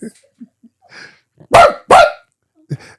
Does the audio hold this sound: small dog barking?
yes